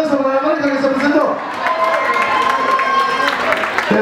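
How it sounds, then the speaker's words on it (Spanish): Applause and cheering from a crowd at a school band presentation, steady loud clapping mixed with voices and a tonal instrument sound. "le damos un fuerte aplauso para la marca que se presentó"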